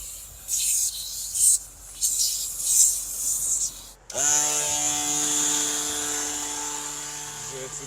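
An air compressor on an Audi Q5 kicks on partway through and settles into a steady motor whine and hum, following rustling and handling noises, with speech around it.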